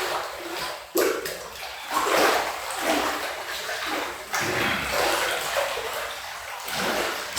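Water splashes and sloshes vigorously in a hydrotherapy pool during hard pushing exercises, with uneven surges and bursts of churning over several seconds.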